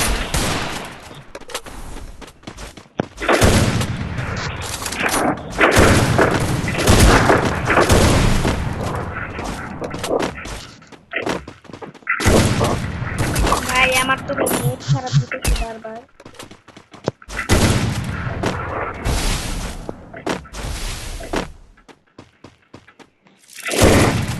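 Gunfire from a video game shooter with sniper rifles, heavy bursts of shots and booms filling most of the stretch, dense and loud, with brief quiet gaps and a person talking over parts of it.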